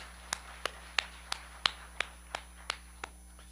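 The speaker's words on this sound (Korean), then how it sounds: "하나님께 박수의 영광." A church congregation clapping in unison during a Korean worship service, about ten sharp, evenly spaced claps in a steady rhythm, fairly faint and with no talking.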